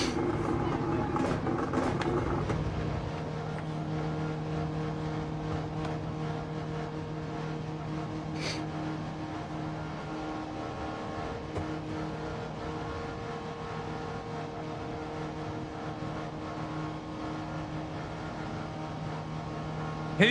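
A racing car engine in Gran Turismo 7 holds a steady, droning hum at constant pitch after an opening stretch of louder revving, with faint game sounds and a few brief clicks.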